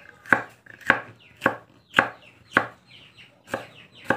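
A knife chops tomatoes and moringa leaves into chicken feed, with eight crisp, evenly spaced strokes on a board about every half second, close and clear with no talk.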